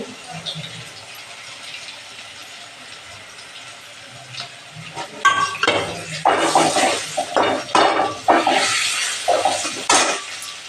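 Garlic being roasted in a pan while cooking Satara-style thapi vadi, heard as quiet sizzling and then a run of clattering, scraping stirring sounds in the pan in the second half, with no talking.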